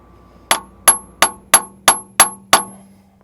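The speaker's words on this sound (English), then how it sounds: "I don't want to hammer directly on the bushing though." Seven evenly spaced metallic hammer blows ring out as a bushing is driven into the undercarriage of a 1965 Mustang, each strike a sharp, loud clang with a brief ringing tail.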